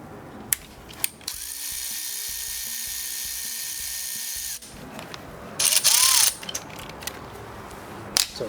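A power tool with a T30 bit runs steadily as it backs out coil pack bolts on a Mercedes M272 engine, a sustained whirring buzz for several seconds, followed by clicks and a brief ratcheting burst.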